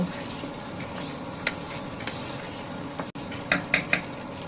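Cut potatoes are stirred into a prawn masala in a pan, with faint clinks of a spoon against metal and a few sharper scrapes near the end over a quiet kitchen background.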